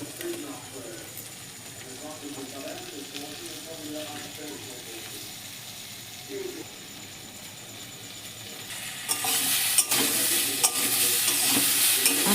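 Amla fries lightly with cane jaggery in a pan, a soft sizzle with stirring, a faint cooing bird and a voice speaking in the background, then the frying swells louder near the end.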